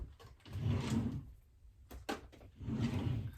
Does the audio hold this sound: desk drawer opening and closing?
yes